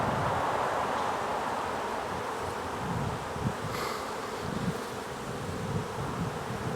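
Honeybees from a nucleus colony swarm around a frame during transfer to a hive body, a dense continuous buzzing close by with faint rustling of handling underneath.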